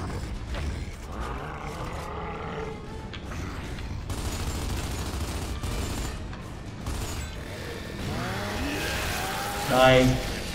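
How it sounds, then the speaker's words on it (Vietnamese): A chainsaw gun in Gears of War 2 grinds and whirs as it saws into an enemy, a loud mechanical rasp under battle noise with a sharp burst near the end. "Phải có những cái màn cưa đẫm máu như vậy nó mới gọi là ghê sọc qua chứ hả?"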